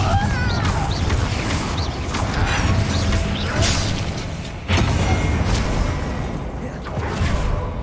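Hogwarts Legacy combat with the Confringo explosion spell, with repeated booming impacts and crashing, mechanical clatter throughout and a sharp burst near the middle.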